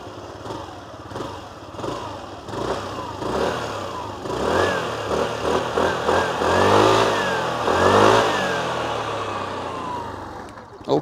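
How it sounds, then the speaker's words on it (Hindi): A Hero Xoom 160cc scooter with its engine revved in place, the close exhaust note rising and falling through several throttle blips that build to a louder, sustained peak before dropping back near the end. "और एग्जॉस्ट नोट जब चालू करा है तो ये भी सुन ही लिया जाए।"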